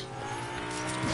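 Cars in the Fortnite video game close in with a steady, loud engine roar and a tire-squeal edge that swells slightly toward the end, no talking over it.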